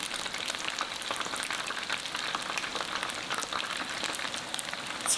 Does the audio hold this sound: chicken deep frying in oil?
yes